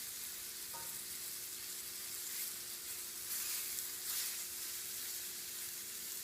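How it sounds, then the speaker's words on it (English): Beef stirred in a sizzling frying pan, a steady soft hiss of frying throughout with faint scrapes of stirring, no voices. "so I'm going to stir it around"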